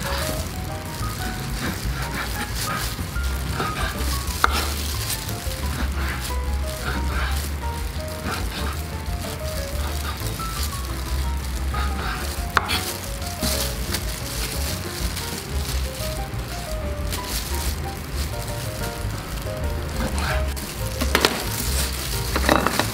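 Pork fat sizzles and crackles steadily in a pan as it renders down into crispy Vietnamese cracklings (tóp mỡ). The frying noise is loud and continuous throughout, with faint clatter now and then.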